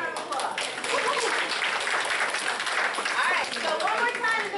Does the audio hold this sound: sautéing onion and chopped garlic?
no